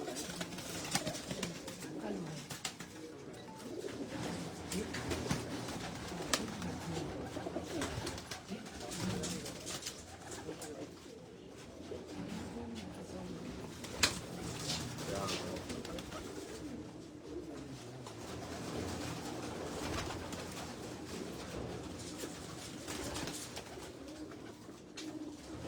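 Pigeons coo throughout a garden aviary, a steady layered murmur of many birds close by, with voices talking intermittently over them.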